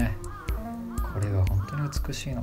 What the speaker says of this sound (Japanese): カラスの鳴き声がいい演出してる